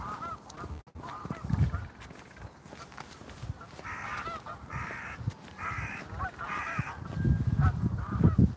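Several birds, apparently geese, give repeated honking calls outdoors, some near and some farther off, amid scattered thuds and shuffling footsteps.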